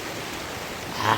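Steady rain falls outdoors in a vegetable garden during a downpour, a soft continuous hiss close by, with a slight swell near the end.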